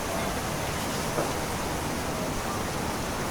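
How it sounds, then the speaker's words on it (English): Loud ocean waves roll in a video game set in White Harbor, a dense, steady rushing wash of surf filling the whole stretch without clear breaks or voices. "Ooh, that is loud. Those waves are loud."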